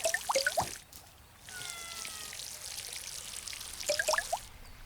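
Water poured over plants in the video game Garden Sim, a steady trickling stream lasting a few seconds at moderate loudness, framed by brief chirpy game sounds before and after.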